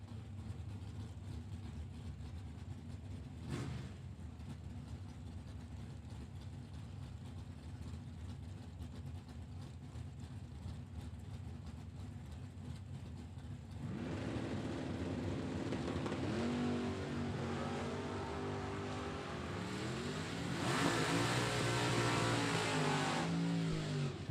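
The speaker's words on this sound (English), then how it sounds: "Keith with a Chevelle right-hand lane with a 658 dial in, and Mike in the left-hand lane with his Camaro" Drag racing at a World Super Pro Challenge event: Keith's Chevelle in the right lane and Mike's Camaro in the left, engines idling and rumbling at the line, then two loud launches building into hard, rising acceleration that recedes.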